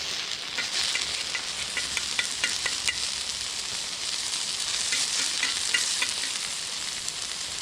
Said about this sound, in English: We'll kind of sizzle this down, get some of the liquid out of it.